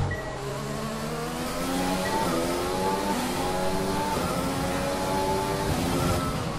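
Engine of an F1 car in the F1 2020 racing game at the Singapore circuit, a continuous high-pitched whine with rising and falling revs, loud and steady throughout with no talk.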